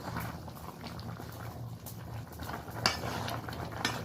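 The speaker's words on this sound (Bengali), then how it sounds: "তরকারিটা বেশ ভালোভাবে ফুটে গেছে, হালকাভাবে একটু নেড়ে দিলাম।" A cauliflower and potato curry bubbling in a pot while being gently stirred, a soft continuous simmer with faint scrapes and a couple of light utensil knocks.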